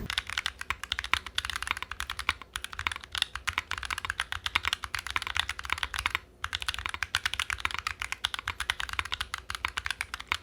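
Steady typing on a Mode SixtyFive mechanical keyboard gives a dense, rapid patter of close key clacks with a brief pause partway through and no voices.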